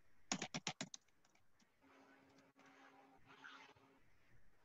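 Keys on a keyboard are typed in a quick burst of about six sharp clicks near the start, followed by quieter background hum and faint sounds, with no talking.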